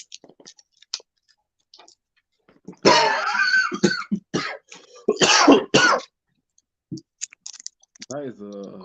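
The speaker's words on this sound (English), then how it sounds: "That is a really deep cough." A single deep, rough cough bursts out amid quiet clicks and rustling, followed by a throaty clearing, with a brief voice at the end.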